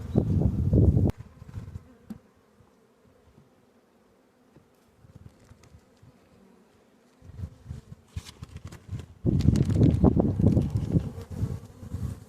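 Buzzing of honey bees at an opened hive during a spring inspection, loud and close at the start and end, dropping to a faint hum in the middle with soft handling sounds.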